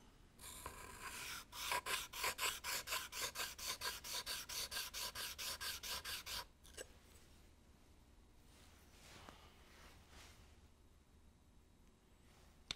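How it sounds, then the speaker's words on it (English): A hand plane chip breaker is honed on a coarse whetstone, about twenty quick, even rasping strokes in a steady rhythm that then stop, leaving faint quiet rubbing. "so I'll hone the contact edge of the chip breaker using my coarsest whetstone"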